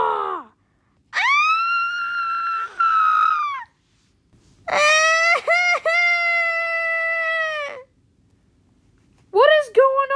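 A girl screaming at someone who is asleep: three bursts of shrill, sustained, high-pitched screaming, each long and strained, separated by silent pauses.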